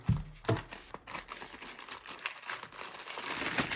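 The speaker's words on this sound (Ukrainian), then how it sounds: "Беремо нашого ножика і відкриваємо посилочку." A parcel is cut open with a knife, giving close crinkling and tearing of plastic packaging with scattered scraping clicks, fairly quiet and continuous with no talk.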